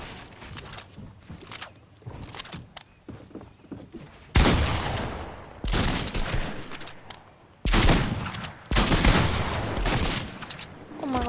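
Lever-action guns firing in Fortnite, loud irregular shots in clustered bursts after a quieter stretch of softer game noise and footsteps.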